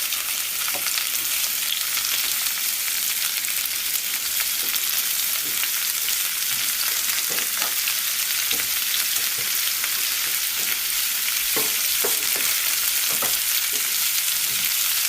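Tomato and eggs stir fry in a hot pan, giving a steady, loud sizzle throughout, with occasional scraping clicks from stirring and no talking.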